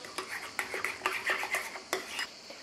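A spoon stirs and scrapes through seasoned fresh goat cheese in a bowl, making a series of close, light clinks and scraping taps in an uneven rhythm.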